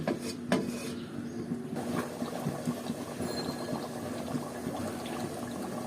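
Beef curry gravy for an Eid-style dish simmers in a kadai, giving a steady, close bubbling and gentle churning that holds an even level throughout with no voices.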